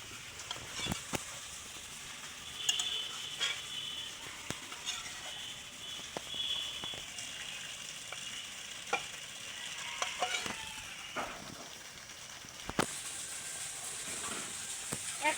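Shing fish and potato curry in a pan on a clay stove bubbles with a soft, steady sizzle, broken by sharp scrapes and clinks of stirring, close by and fairly quiet.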